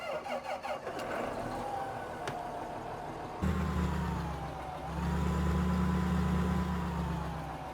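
A John Deere 8530 tractor in Farming Simulator 15 gives a thin whine and squeal at first, then its engine settles into a deep, steady rumble that swells louder partway through.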